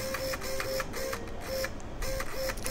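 A KST X20 3012 high-end brushless servo, rated 35 kg at 8.4 volts, moves quickly back and forth, giving short, repeated electric whines and buzzes at close range.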